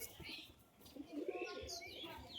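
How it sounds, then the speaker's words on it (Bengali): An Andhra Phulshira pigeon gives soft, low coos at close range, mixed with faint chirps from other birds and a quiet voice in the background. "পুরো অন্ধ্রা ফুলশিরা পায়রা"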